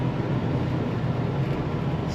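A 1957 Chevrolet Apache 3100 pickup engine idles smoothly, giving a steady, low, continuous rumble with no change in pitch or level across a couple of seconds, and no one talks.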